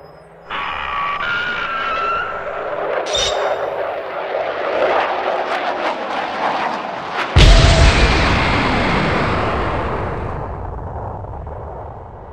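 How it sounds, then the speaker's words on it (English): A stop-motion Godzilla film's oxygen missile launches with a rising whoosh and roar, then a loud explosion hits near seven seconds, its rumbling blast slowly fading away. "Launched the missile and..."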